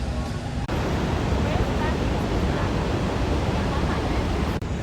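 Niagara's Horseshoe Falls roaring from the crowded Canadian side, a loud, steady, broadband wash of falling water close by that fills the whole clip, with two brief dropouts.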